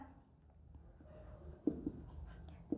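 Marker or chalk strokes sketching a chemical structure during an organic chemistry lecture on amino acids, quiet scratching that builds into a few sharp taps near the end.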